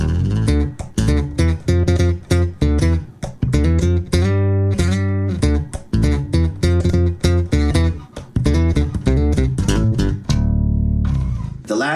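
Bass guitar played through an octave-down pedal, the blended lower octave giving a thick synth-like bass tone; a busy run of loud, punchy plucked notes played alone with no talking.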